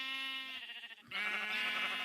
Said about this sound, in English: Okay, so those are 2 magenta sheep.